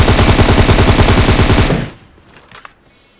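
Rapid automatic fire from an M762 rifle in a video game, a loud sustained burst of close shots lasting under two seconds, then cutting off to near silence with a couple of faint clicks.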